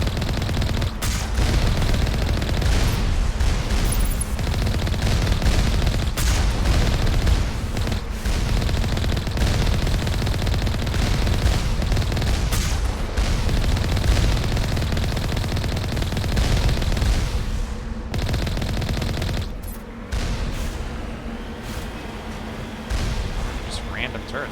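Turrets fire in the Mass Effect video game as a dense, continuous barrage of rapid gunfire and booming blasts, loud and nearly unbroken, with a brief dip near the end and talk mixed in.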